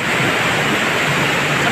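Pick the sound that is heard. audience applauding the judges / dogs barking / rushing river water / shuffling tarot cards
rushing river water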